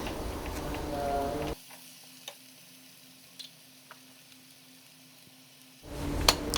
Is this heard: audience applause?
no